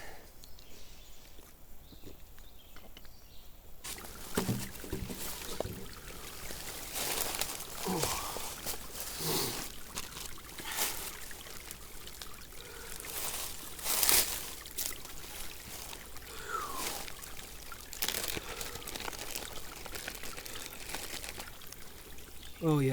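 Water poured out at a campsite on a multi-day lean-to camping trip, a steady splashing trickle through most of the span, fairly close, with some handling noise and brief movement sounds mixed in.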